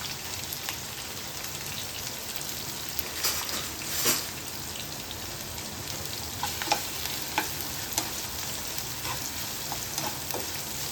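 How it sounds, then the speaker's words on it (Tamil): Onions sauté in a pan for Kerala-style varutharacha chicken curry, a continuous crackling sizzle close by, with repeated scraping stirs and soft clinks. "நல்லா வெங்காயம் வதக்கிக்கோங்க."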